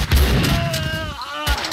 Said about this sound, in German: die schießen ja auf ihn